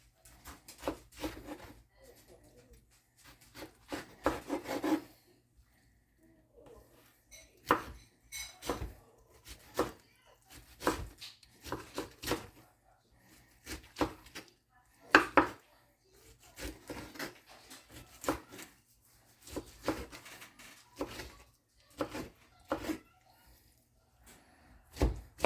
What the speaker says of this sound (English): I'm just going to cut up this cabbage